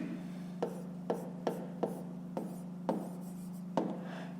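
Pen strokes write out a math solution in a quiet room, about eight separate short scratches spaced unevenly, close and faint over a low steady hum.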